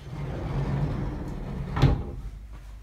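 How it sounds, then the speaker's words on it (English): Handmade sliding doors on a tiny bathroom glide along with a low rumble, then shut with one sharp knock, heard close and indoors with no talk. "made these sliding doors for our bathroom because it seemed like the most space-saving way to get in and out of this tiny little bathroom"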